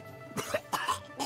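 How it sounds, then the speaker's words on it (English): A male character in Disgaea 7 coughs up blood, giving two or three harsh, throaty coughs in a short burst at moderate loudness with no speech over them. "Why is he coughing up blood?"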